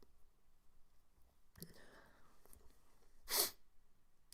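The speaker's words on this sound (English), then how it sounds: "I'll try not to sneeze." A single sharp sneeze bursts out near the end, close but fairly quiet, after soft shuffling and breathing noises in an otherwise hushed room.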